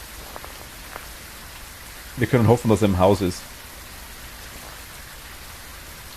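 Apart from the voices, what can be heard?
rain from the video game Phasmophobia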